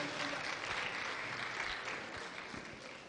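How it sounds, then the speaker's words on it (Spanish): A church congregation at a Spanish-language service gives a strong round of applause, a dense continuous patter of clapping at moderate distance with faint low thumps underneath and no clear speech. "Un aplauso fuerte."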